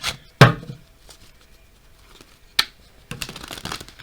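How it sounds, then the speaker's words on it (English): A few brief riffling bursts of tarot cards being shuffled, close by, separated by quiet pauses. "we're going to shuffle our tarot deck"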